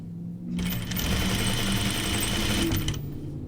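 A sewing machine stitches the seams of a tunic, running in one steady, close whirring burst of about two and a half seconds that starts and stops abruptly, with no talk.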